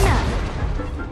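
A burst of the Incendio fire spell in Hogwarts Legacy on Xbox Series X, a loud booming whoosh of flame that hits hard at the start and trails off over about a second.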